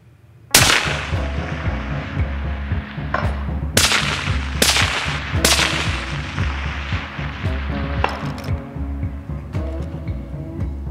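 Rifle shots fired in an open field during long-range shooting: four sharp, loud reports with echoing tails, spaced a second or two apart, over a steady low background hum.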